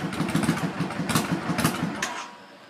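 Cold 2008 Yamaha V-Star 650 engine idling, a close, loud, lumpy low throb with a loping rhythm and some mechanical clatter, cutting off abruptly at the end.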